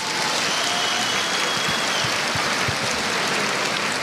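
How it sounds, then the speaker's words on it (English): Crowd applause at a memorial service, a dense steady wash of clapping from a large audience lasting the whole moment without voices on top. "Can you please give Atama Fukat a very big round of applause?"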